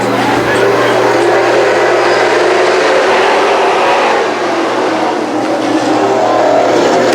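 Pro street stock cars roar away at the green flag at Can-Am Speedway, a dense, loud, continuous wall of engines revving hard at close range, with a commentator's voice partly audible beneath the racket.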